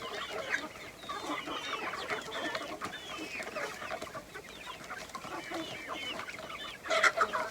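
Several chickens cluck and murmur continuously while grazing outdoors, a soft close chorus of overlapping clucks with a louder burst of calls near the end.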